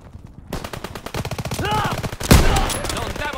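Rapid machine-gun fire and scattered gunshots crackle in dense bursts during a D-Day beach battle in Call of Duty WWII, with a sharp loud blast near the middle and voices shouting amid the shooting.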